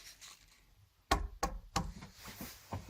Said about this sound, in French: Qui a pu toquer quand même à la porte?